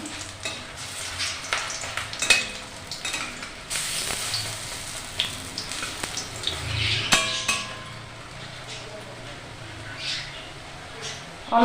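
Bok flower (sesbania) and coriander leaf fritters fry in hot oil, a soft continuous sizzle with scattered clinks and stirring scrapes of utensils against the pan.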